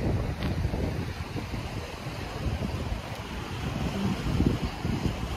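Strong wind buffets the microphone on a beach on a bright day, with a continuous rushing roar and broad surf wash underneath, loud and steady throughout with no voices.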